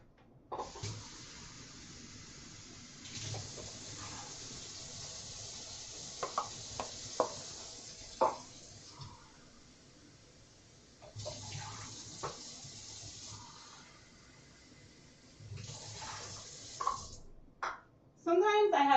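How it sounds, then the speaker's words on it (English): Water is poured into pots of yarn dye in three long hissing streams separated by pauses, with small clinks and handling noises in between. "I'm gonna add a cup of water,"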